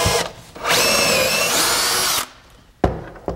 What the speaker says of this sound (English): Drill that first hole